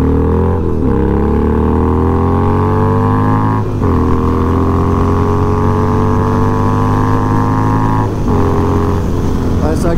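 Tuned Harley-Davidson 1200XR motorcycle accelerating hard, its loud engine note rising steadily through brief gear changes, close up and continuous for the whole stretch.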